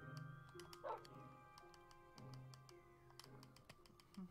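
Dogs in the Minecraft video game give a short bark and a few faint yips, quiet and distant over a low background hum with light clicking.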